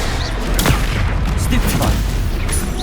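Rapid bursts of spell explosions from Confringo fire in Hogwarts Legacy during a combat scramble, several loud booms and cracks overlapping in dense succession against a constant noisy battle background.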